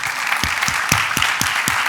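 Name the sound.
audience applause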